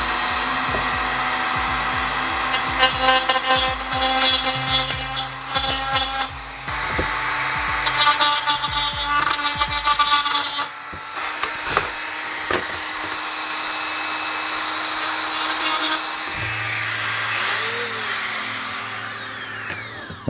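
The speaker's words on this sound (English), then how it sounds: "And to do that I'm going to use a multi-tool, and I have on here just a little mill kind of bit." Rotary multi-tool with a small mill bit grinding rough edges on a Galaxy Invader repair, a loud continuous high whine with shifting pitch and rattling contact scrapes throughout, climbing sharply as the motor spins down near the end.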